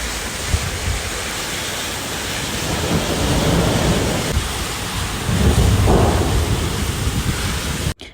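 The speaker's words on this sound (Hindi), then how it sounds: "मगर फिर इतनी ज़ोर ज़ोर से बादल गरजने लगे कि मैं डर के मारे अंदर ही आ गई" Heavy rain pours steadily in the UK with low rumbling thunder rolling underneath, growing louder toward the end before cutting off abruptly.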